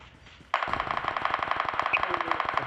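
Rapid automatic gunfire in a multiplayer video game bursts in suddenly and keeps up a fast, even rattle of close, loud shots, with faint talk beforehand.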